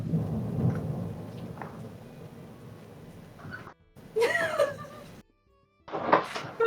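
A thunderstorm with broad rumbling thunder and steady rain, loud low rolls early, then brighter crackling bursts after brief near-silent gaps.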